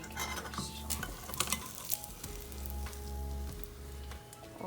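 Canadian bacon slices frying in a pan for a breakfast sandwich, giving a steady close sizzle with scattered clinks and scrapes of a utensil and cookware, no talking.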